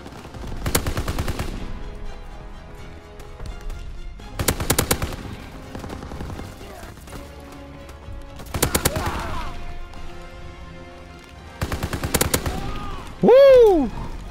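Four loud, rapid bursts of machine-gun fire ring out in a WW2 video game, each lasting about a second with spaced pauses between, followed by a brief whistling game effect at the end.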